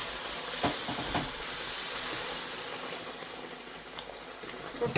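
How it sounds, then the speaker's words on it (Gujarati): Milk heating in a kadai while making a semolina sweet: a steady, close hiss of steam and simmering with a few faint taps and clinks, continuous and fairly even throughout. "નીચે હવે નાખી દેવાનું દૂધ થોડુંક એવું ગરમ કરી લઈએ"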